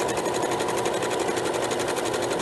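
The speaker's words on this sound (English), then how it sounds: "Just select the smocking stitch and sew a row." A sewing machine runs a row of smocking stitches, giving a fast, steady, even whir of needle strokes at close range without pause.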